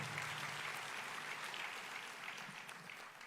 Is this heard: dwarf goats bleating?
no